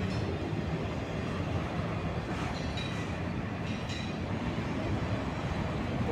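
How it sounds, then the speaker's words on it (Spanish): A train with several wagons rolls past in the dark at dusk, a steady, fairly loud broadband rumble that holds throughout, with faint rail clatter and brief higher squeaks. "Miren, amigos, ahí va el tren, miren."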